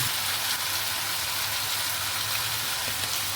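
Marinated mutton frying in a hot pan, a steady dense sizzle and crackle with a low hum underneath, close and continuous throughout.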